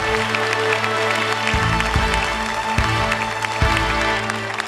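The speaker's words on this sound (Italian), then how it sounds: "a loro farei un grande applauso" Applause from an audience fills the space, a steady wash of clapping with a faint crowd murmur, while a low sustained musical tone and a few soft thumps sit underneath.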